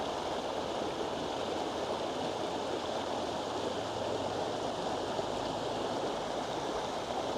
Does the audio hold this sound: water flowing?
yes